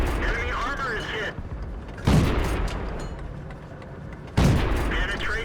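Tank cannon shots in World of Tanks on the Malinovka map, a Pz38nA firing on an enemy Churchill: two sharp, loud booms with rumbling tails over steady battle noise, with a voice talking throughout.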